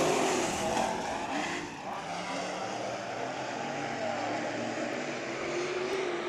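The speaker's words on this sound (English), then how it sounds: "now we got 3 cars. Yeah, we lost the 77 of Bartels. Here we go back to green" Race cars at the Budweiser Nationals, engines roaring steadily and loudly as they race on track at night, a continuous mix of several cars passing close.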